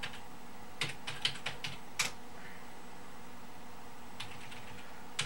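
Keys tapped on a computer keyboard while entering a command in Windows 7: a short burst of clicky strokes, then a pause and a few more taps, close but light over a steady hum.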